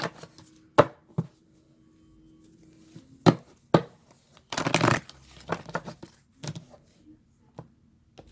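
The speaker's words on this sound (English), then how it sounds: "I just wanted to cut them both so I don't have to try to move any cards out of the way once I get started here" A deck of tarot cards being cut, giving several sharp, close card slaps and taps spaced out in a quiet room, with a longer shuffling rustle in the middle.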